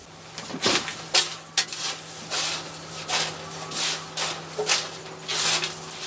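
Potting soil being gently mixed with perlite or pumice for a succulent mix, soft gritty rustling and shuffling in short uneven bursts, close up, with no talk.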